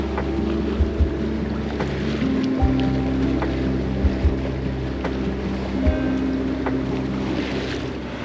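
A sailboat's engine drones steadily with a low hum while motoring at sea in Greece with virtually no wind, water and wind rushing around it; occasional thumps punctuate the motoring.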